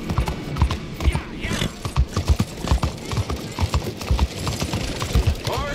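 A horse in Red Dead Redemption 2 trots steadily, its hooves clip-clopping in a quick, even rhythm up close, with creaking tack alongside.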